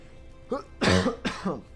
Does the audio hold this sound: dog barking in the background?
no